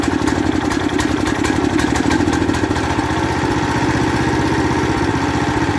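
A Predator 420cc go-kart engine idles with a steady mid-pitched clatter that roughens and starts to sag as it threatens to die, loud and close, with no talking.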